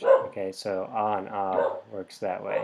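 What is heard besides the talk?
dog Eeyore barking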